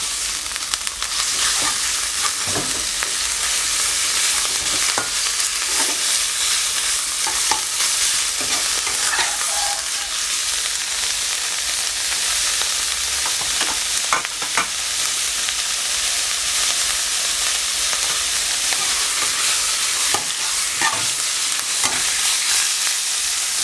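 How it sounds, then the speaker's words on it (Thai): Sliced beef stir-fried in a hot pan for red curry made without coconut milk: a loud, steady sizzle throughout with frequent scraping and clattering of a spatula, close up and with no talking. "ก็อันดับต่อไปจะเป็นเนื้อที่เราหั่นไว้ ก็ผัดจนสุกนะครับ"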